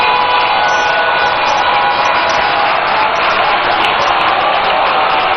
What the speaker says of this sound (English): a rousing round of applause for the Right Honorable Speaker of Parliament, Alban Sumana Bagbin.